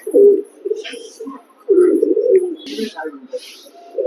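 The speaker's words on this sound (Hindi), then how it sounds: "कबूतर सबसे आखिरी उतरा है ये इन सारे कबूतरों में।" Pigeons coo softly in low, rolling bursts, with a few faint chirps and rustles around them; nearby and fairly clear.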